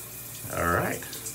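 Tap water runs briefly over a razor blade at a bathroom sink during a head shave, a short close splash swelling and fading within about a second.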